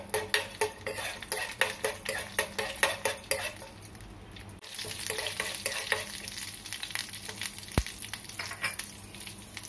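Oil with urad dal and chana dal frying for a chutney tempering, a rapid run of rhythmic metal spoon scrapes against the pan over steady sizzling, then a louder continuous hiss with occasional clinks.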